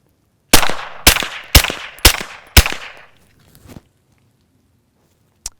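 Suppressed gunfire from a Gemtech Lunar 9 with Winchester Super X subsonic jacketed hollow points: five sharp, close shots in a quick, even string, followed by a couple of softer clicks and a faint tap.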